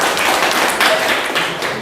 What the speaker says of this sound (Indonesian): Kelompok 4, kita beri tepuk tangan.